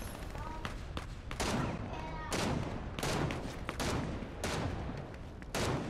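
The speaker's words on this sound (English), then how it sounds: "There's people shooting outside the frigging Citadel." Gunfire outside the Citadel in a shooter game, with repeated sharp volleys of shots cracking at irregular intervals, fairly close and loud, while a voice talks over the shooting.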